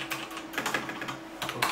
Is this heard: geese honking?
no